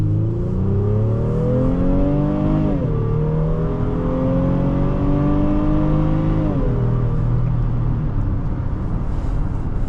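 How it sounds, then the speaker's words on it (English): A 2023 Honda Pilot Touring engine accelerating from inside the cabin, with a steady rising whine and rumble through two gear shifts, loud and continuous with no talk. "But this engine is great."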